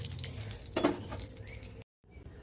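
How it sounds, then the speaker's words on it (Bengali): Whole spices such as cloves, cinnamon and cardamom fry in hot oil with a steady close sizzle, a brief louder crackle burst partway through, then a short silent gap before the sizzling resumes. "তো এগুলো একটু লাল লাল হয়ে ভাজা হয়ে যাবে।"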